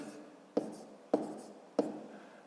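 Pen strokes writing numbers in a fifth-grade math subtraction exercise, three short sharp taps with brief scratchy tails at an even pace, close and clear.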